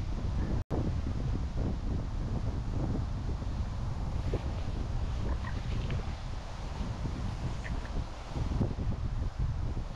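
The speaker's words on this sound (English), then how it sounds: "Oh, it's windy." Wind buffets the microphone steadily at a lakeside feeder fishing spot, a constant low roar with faint rustling and scattered distant sounds, no voices.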